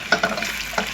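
Chopped onions sizzling as they fry in hot oil while preparing Nigerian porridge beans, a steady close crackle with a few brief louder stirs or splatters.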